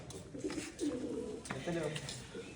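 Pigeons kept in a coop cooing in soft, low repeated phrases, close by, with voices talking over them.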